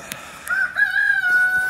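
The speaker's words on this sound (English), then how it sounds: "rooster coming after me a little bit" A rooster gives a single clear cock-a-doodle-doo crow, fairly close and loud, and holds it for over a second. A few faint clicks and rustles sit around the call.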